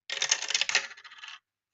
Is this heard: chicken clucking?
no